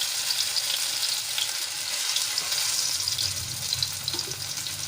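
Arbi (taro leaf) rolls shallow frying in a tablespoon of oil, giving a steady, soft sizzle with faint bubbling crackle throughout, close and even, with no voices.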